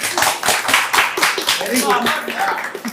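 An audience at a film-team interview claps in a steady burst of sharp, close hand claps that runs right through, with voices talking over it.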